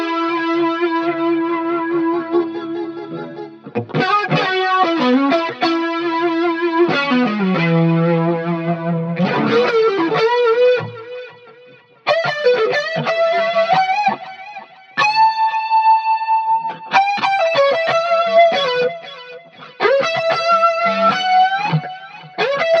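A distorted electric guitar solo, played through HeadRush Revalver amp modelling with chorus, echo and hall reverb, with sustained bent notes and quick phrases ringing out loud and alone with long reverberant tails.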